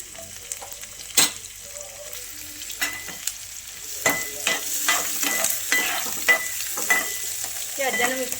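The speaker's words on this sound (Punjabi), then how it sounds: "ਹੁਣ ਆਪਾਂ ਪਾ ਦਾਂਗੇ ਇਹਦੇ ਵਿੱਚ ਪਿਆਜ਼ ਤੇ ਪਿਆਜ਼ਾਂ ਨੂੰ ਵੀ ਆਪਾਂ ਚੰਗੀ ਤਰ੍ਹਾਂ ਭੁੰਨ ਲਾਂਗੇ ਜੀ" Onions go into a pan with green chilli and garlic already frying, giving a continuous close sizzle broken by repeated stirring scrapes and clatters of a spoon against the pan.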